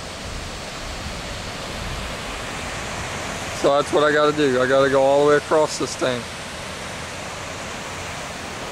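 Muddy, murky Ohio River rushes at the Falls of the Ohio State Park in a constant, full broadband roar, while someone talks briefly over it in the middle.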